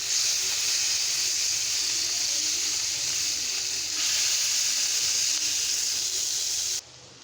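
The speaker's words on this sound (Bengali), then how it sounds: "পেঁয়াজগুলো ভাজা ভাজা করতেছি" Onions fry in a pan for a Bangladeshi fish bhorta recipe, giving a steady loud sizzle and hiss that runs unbroken, nearby and alone, before cutting off abruptly near the end.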